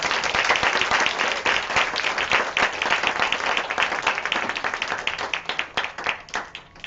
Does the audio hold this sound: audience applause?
yes